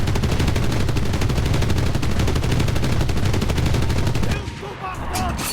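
Sustained rapid gunfire from an enemy fighter plane in the World War II shooter Enlisted, close and loud, with dense chattering bursts that drop away near the end.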